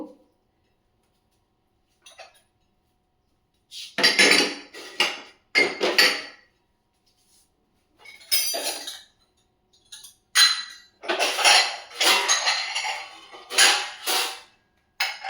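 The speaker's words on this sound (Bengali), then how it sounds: "টুকটাক বাসন যেগুলো ধুয়ে রেখেছিলাম দুপুরবেলা ওইগুলো আবার একটু সব তুলে গুছিয়ে নেব" Washed dishes and utensils being put away in a home kitchen: bursts of clinking plates, pots and cutlery, irregular and close, separated by short quiet gaps, with no talking.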